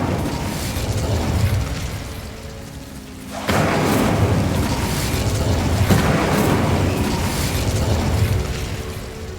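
Incendio fire spell cast in Hogwarts Legacy, a burst of whooshing flame that surges suddenly midway and keeps roaring loudly, layered over a rumbling game ambience.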